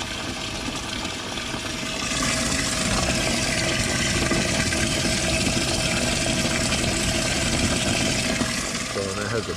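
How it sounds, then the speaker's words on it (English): Livewell aerator pump with a built-in Venturi vent on a jon boat converted to a bass boat, running as a steady, close whooshing water hum that swells louder after the first couple of seconds and holds. "it has a built-in Venturi vent, so that puts a lot of oxygen in the water when it's running like that."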